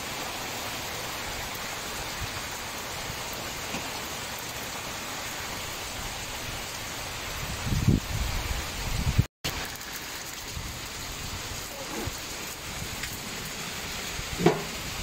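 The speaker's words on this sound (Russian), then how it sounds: "Ливень идет." Steady heavy rain downpour, a dense continuous hiss throughout with a couple of brief louder bumps and a short dropout midway, no voices.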